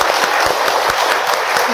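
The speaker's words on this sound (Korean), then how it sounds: "신부님 말씀에 박수 한번." Audience applause at a book concert with a priest, a brief burst of dense, loud clapping from a crowd indoors, with a voice briefly over it.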